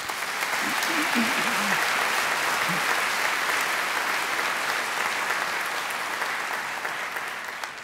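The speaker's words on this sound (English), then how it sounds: "Angela deserves another great round of applause" Sustained, even applause from a large graduation ceremony audience, dense clapping filling the hall at steady loudness and tapering slightly at the end, with brief faint voices early on.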